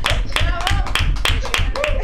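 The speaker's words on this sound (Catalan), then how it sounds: "un aplaudiment" Rhythmic clapping from a small studio audience on a Catalan late-night talk show: sharp, evenly spaced claps repeat several times per second, close and fairly loud, with voices talking over them.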